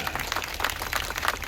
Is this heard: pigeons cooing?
no